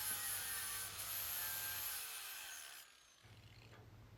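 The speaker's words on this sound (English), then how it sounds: "I continue with the flapper wheel, gently removing metal until the surface of the frame is nice and smooth." Flap wheel grinding steadily on the steel frame of a Kawasaki S1 550 four-cylinder motorcycle during repair, a continuous abrasive hiss with a low hum that eases off briefly near the end before resuming, with no talking.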